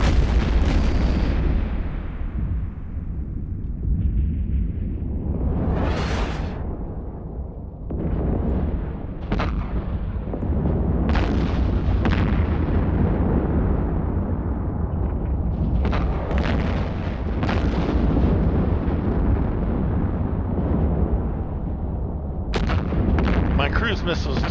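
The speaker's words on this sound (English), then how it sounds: "My cruise missiles do still hit for quite a wallop." Cruise missiles striking an Armageddon-hull ship in an EVE Online space battle, a series of heavy booming explosions with long rumbling tails, close and loud, overlapping one another.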